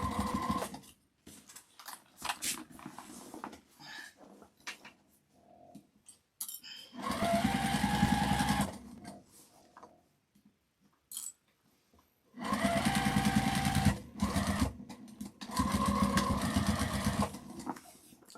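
Sewing machine stitching a tote bag made from the Everyday tote pattern, with two longer bursts of fast, steady whirring and shorter runs and pauses between them, close and fairly loud.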